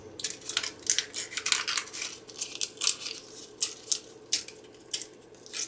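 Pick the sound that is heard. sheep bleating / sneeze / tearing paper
tearing paper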